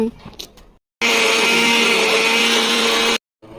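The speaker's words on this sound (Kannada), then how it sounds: "ಇದನ್ನೆಲ್ಲ ನೆನೆಸ್ಕೊಂಡು ಈಗ ನಾವು ಇದನ್ನು ರುಬ್ಬೋಣ" A mixer grinder whirs loudly and steadily for about two seconds, blending soaked hibiscus leaves, onion, hill amla and fenugreek into a hair pack, starting and stopping abruptly.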